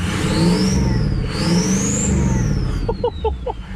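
A loud 6.0 diesel truck engine with an aftermarket turbo revs up and falls back, with a rising and falling turbo whine over a deep continuous rumble, close by.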